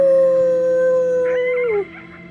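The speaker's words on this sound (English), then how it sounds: "You howled at the moon, at the top of your lungs." Coyote-like howl in the video game Before Your Eyes, a single long sustained wavering cry that slides downward and breaks off, loud and close, followed by fainter background sound.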